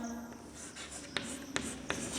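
A pen scratches across paper at close range, soft and faint, with a few sharper strokes standing out against quiet room noise.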